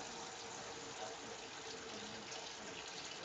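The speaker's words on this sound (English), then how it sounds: "Now, I'm going to fill my pot up with water." Water pours steadily from a tap into a cooking pot, a constant close hiss and splash at low volume that carries on unbroken throughout.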